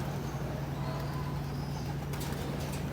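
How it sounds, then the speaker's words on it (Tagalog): Pigeons in a loft cooing softly, with a low steady hum underneath and a few quick flutters of wings near the end. "Ito na yung mga kalapate namin."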